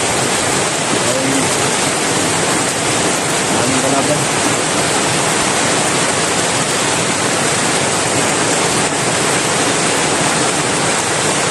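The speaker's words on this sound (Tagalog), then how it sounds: "napakalakas po ng ulan dito" Heavy rain pouring down in a steady, loud, dense hiss that fills the whole scene, with a voice briefly speaking over it.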